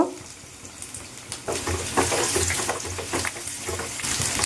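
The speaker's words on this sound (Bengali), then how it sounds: "দুটো পেঁয়াজ দিয়ে দিলাম পেঁয়াজটা একটু লালচে লালচে করে ভেজে নেব" Onions sizzle steadily in hot oil in a pan alongside bay leaves, a continuous close crackling hiss with faint stirring scrapes and no voices.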